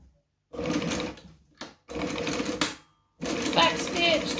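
Sewing machine stitching a bag lining, running in short bursts: one long burst, a brief blip, then two more steady runs of rapid rhythmic mechanical whirring up close, separated by quiet pauses.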